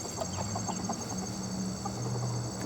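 Several chickens clucking near a parked pickup truck outdoors, short soft repeated clucks scattered over a steady background hum.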